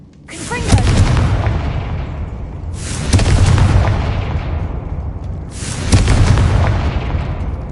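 The Confringo spell bursts in Hogwarts Legacy, producing three loud, booming explosions a few seconds apart, each with a sharp crack followed by a long, rumbling decay.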